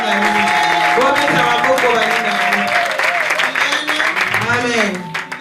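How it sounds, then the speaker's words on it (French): A church congregation applauds through a sermon service, dense clapping filling the space with voices and cheers rising over it, staying loud and steady before thinning slightly at the end. "Est-ce qu'il y a quelqu'un qui peut applaudir?"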